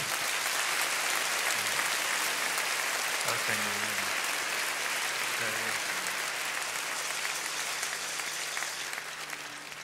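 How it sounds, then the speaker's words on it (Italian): An audience at an event about disability claps steadily in encouragement, a dense, even round of applause that lasts throughout, with a few voices calling out underneath. "Anche a lui facciamo un grosso applauso di incoraggiamento."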